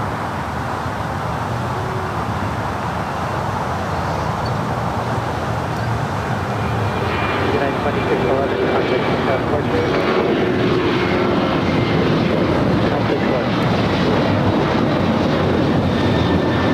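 A jet airliner takes off from a runway at LAX, a loud continuous engine roar that swells and shifts in pitch as it accelerates, heard from a distance throughout.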